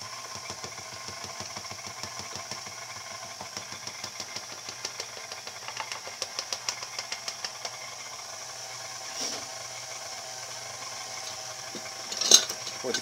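A KitchenAid stand mixer runs through a sugar and flour mixture with a steady low motor hum and a fast, regular ticking beat, moderately quiet and close, with a brief louder clunk near the end.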